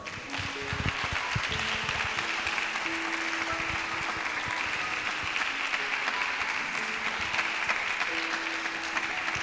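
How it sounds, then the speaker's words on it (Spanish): A church congregation gives a long, steady round of applause to the Lord, with faint sustained tones and a few voices mixed beneath the clapping. "¿Cuánto le da un aplauso al Señor?"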